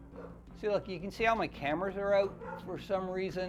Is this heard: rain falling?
no